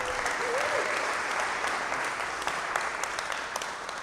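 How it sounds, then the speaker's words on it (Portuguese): A church congregation applauds steadily for a young man named Gabriel, a continuous wash of clapping heard at moderate distance with a faint voice briefly at the start. "Aplausos pro Gabriel, por favor."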